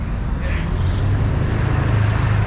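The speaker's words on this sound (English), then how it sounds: "a lot of traffic." Steady, loud roar of road traffic on Highway 200 in Bucerías, Mexico, with cars rumbling past continuously and close by, no clear voices over the din.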